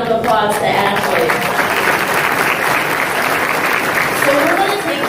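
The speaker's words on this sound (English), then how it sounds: "Let's give another round of applause to Ashley." Loud, sustained audience applause at an evening awards ceremony, a dense crowd of clapping hands close by, with brief speech over it at the start and near the end.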